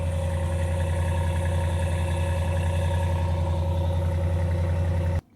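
A 2018 Ram Rebel pickup on its stock exhaust idles with a loud, deep, steady rumble and an even pulse that does not change, then cuts off abruptly just before the end.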